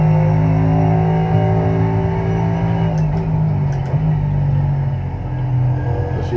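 Race car engine in a racing simulator game, a loud steady droning rumble with sustained engine tones that shift slightly as the car brakes into a corner, plus a few brief clicks, with no talking.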